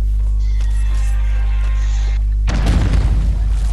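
A red orb explosive detonates in the Conan Exiles video game during a raid: a sudden loud, deep boom with a broad crackling blast that rumbles on for over a second over a steady low in-game hum.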